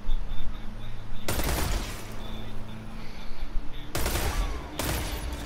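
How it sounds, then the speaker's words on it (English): Gunfire from Destiny 2 comes in three loud, broad bursts of rapid shots, each lasting under a second, set over a steady hum of game sound. "Shooting you repeatedly."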